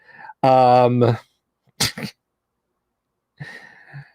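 A single sharp sneeze bursts out in the middle, set between a loud drawn-out vocal sound before it and quieter speech after it.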